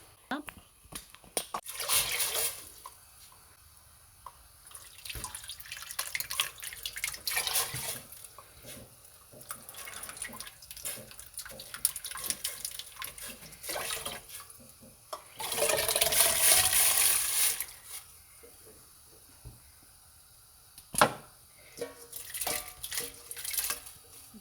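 Tap water runs and splashes in bursts as tapioca pearls are strained, with a louder steady stream partway through and someone talking over it.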